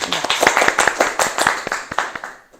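A studio audience at an Italian Taskmaster comedy game show claps for a contestant, individual hand claps clearly separated in a quick, lively burst that thins out and fades at the end.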